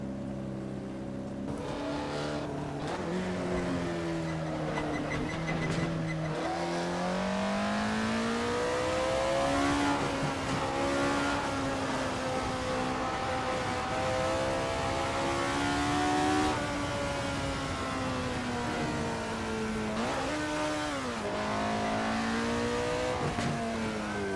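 An Alfa Romeo 33 Stradale lapping Laguna Seca in a racing video game: a loud, continuous engine note rises and falls through gear changes, revving hard along the straights and dipping into the corners, with no talk throughout.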